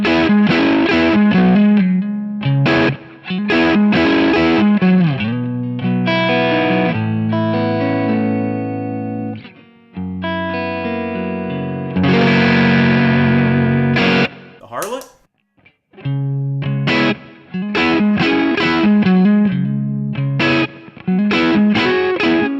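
Overdriven electric guitar through a Kingsley Minstrel pedal, playing a crunchy rock tone with strummed chords and single-note runs, loud and up close, with brief pauses and a quick slide midway.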